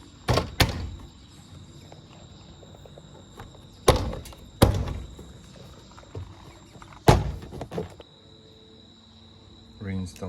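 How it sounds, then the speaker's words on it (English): Hand knocking a BMW E39 door panel back into place: several sharp, close thumps, some in quick pairs, spaced by quiet gaps, with no talking. "And then you can go around and knock the door panel into place."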